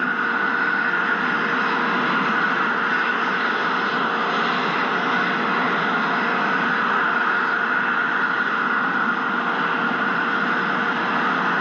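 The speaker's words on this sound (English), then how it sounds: "First stage engines are continuing to fire" The first stage engines of the H-IIB rocket carrying the HTV-9 cargo craft fire steadily during ascent, a continuous broadband roar with no breaks, no one speaking over it.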